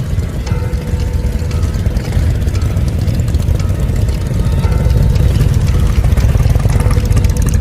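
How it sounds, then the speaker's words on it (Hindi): Motorcycle engine rumbling steadily on a village road, a low, continuous drone that grows slightly louder toward the end, with no voices. "मोटरसाइकिल की आवाज आई।"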